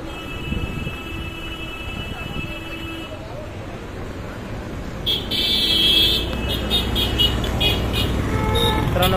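Heavy road traffic crawls past during the Navratri festival crowds at Saptashrungi Gad, near Nandori, with pilgrims on foot. Engines rumble steadily while car horns toot repeatedly, and the din grows louder partway through.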